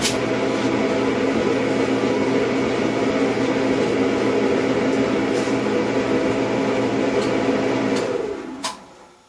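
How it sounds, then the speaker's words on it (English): A steady mechanical hum and rumble of a Performa clothes dryer running after a thermal fuse check, constant and close, then winding down near the end with a few faint clicks. "Try the dryer to see if it works now."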